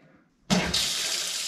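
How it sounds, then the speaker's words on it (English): After a brief quiet moment, a tap suddenly turns on and water gushes steadily into a sink, close and loud. "I got the water. Let's see if it's hot water coming."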